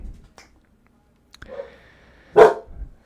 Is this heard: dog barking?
yes